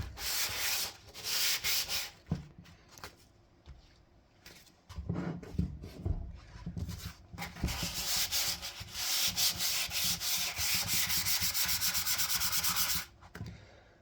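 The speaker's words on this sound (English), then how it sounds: "just give it a light sanding." Steady back-and-forth rasping of sandpaper lightly sanding a water-based top coat on wood, close up, in bursts with brief pauses, growing more continuous toward the end.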